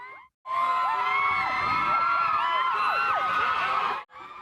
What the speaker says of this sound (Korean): 기다리던 팬들의 환호성이 터져나옵니다.